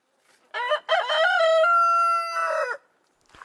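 A rooster crows loudly and close by in one long drawn-out call with a rising start and a sustained, fading tail, followed by a faint cluck among chickens.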